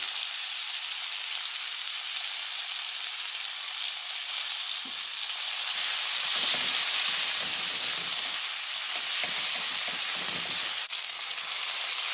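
Garlic, onion, tomato and chili sauté in a hot pan, a steady bright sizzle that swells as the ingredients go in, with soft scraping stirs and no talking.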